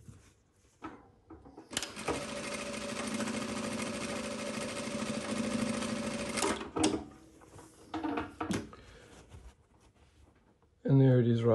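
A JUKI DDL-900C industrial sewing machine runs a fast, steady stitching burst for several seconds, followed by shorter clicks and mechanical taps, with a voice talking briefly at the end.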